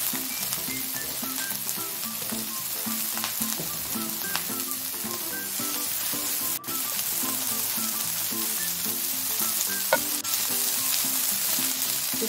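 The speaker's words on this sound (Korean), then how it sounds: "그리고 물기를 뺀 고사리를 넣어주세요." Drained bracken fern and sliced green onion stir-fry with golden garlic in a pan, making a loud, constant sizzle that runs throughout with a few faint clicks and no talking.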